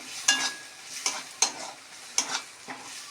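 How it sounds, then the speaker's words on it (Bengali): Bombay duck (lote fish) being stirred and fried with spices in a pan, five distinct scraping strokes of a spatula over a soft sizzle, close and fairly quiet, no talking. "এভাবে আমি শাহি করে মশলা দিয়ে এটাকে আরও 5 মিনিট নাড়ি ছড়িয়ে নেব।"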